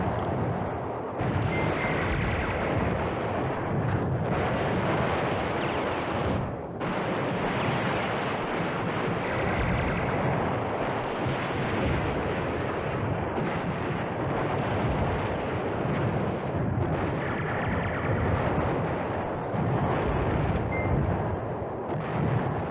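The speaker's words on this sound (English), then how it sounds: "You just keep bombing on that X." Continuous rumbling artillery bombardment in a World War II strategy video game, a dense roar of overlapping distant explosions with no clear gaps.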